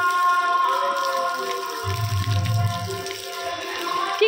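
Running water in a village where children are bathing, a continuous outdoor splash and flow heard close, with a slightly heavier gush midway and no clear talking.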